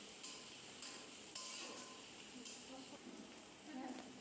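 Chopped onion and green chilli fry in a pan while a spatula stirs them, giving a soft, steady sizzle with occasional scraping and light clinks, faint and close.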